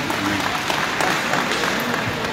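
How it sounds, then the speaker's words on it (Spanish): A crowd at the Calvillada 2023 gathering in California applauds, a moderate, continuous patter of many hands clapping, somewhat distant. "damos un fuerte aplauso a toda esta gente por este gran evento"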